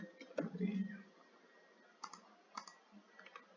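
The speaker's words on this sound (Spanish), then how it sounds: "Que yo voy a hacer clic" Mouse clicks while working in Revit software: a few sharp, quiet clicks spaced irregularly, with a brief low bump at the start.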